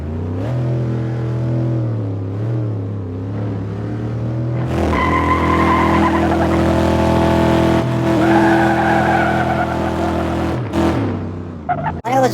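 A race car in the Assetto Corsa driving game launches in a drag race, its engine droning and then rising sharply into a loud, sustained revving roar with tire squeal, continuous and close throughout.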